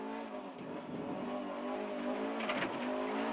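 A rally car on the 2005 Mecsek rally stage revs hard and accelerates from inside the cabin, the engine loud and continuous with rising pitch and a sharp surge near the end.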